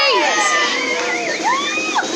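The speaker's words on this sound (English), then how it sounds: "I want to hear some cheering" Spectators at a chilli pepper eating competition cheering and shouting, a loud, dense crowd of high excited voices, including children's, filling the whole short moment.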